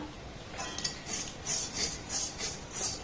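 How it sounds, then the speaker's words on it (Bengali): Semolina and nuts stirred and toasted in a pan with a spoon, giving soft repeated scraping strokes in a steady rhythm, close and fairly quiet. "এবার সুজি আর এই বাদামটাকে একটু নাড়াচাড়া করে ভেজে নেব"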